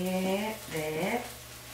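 Food frying in butter in a home kitchen gives a steady soft sizzle beneath a voice that talks continuously over it.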